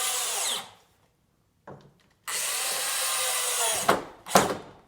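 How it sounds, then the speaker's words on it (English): A power drill drives screws into pine flooring in a basement, whining in bursts that stop and restart, followed by short squeaky spurts as each screw seats snug. "So you really don't need a real powerful drill when you're going into pine."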